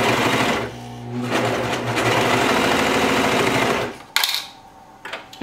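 A Brother 1034DX serger sewing fabric for baby bell-bottom pants runs loud and close in a fast, steady mechanical whir for about four seconds, then stops, leaving a few small clicks and handling sounds.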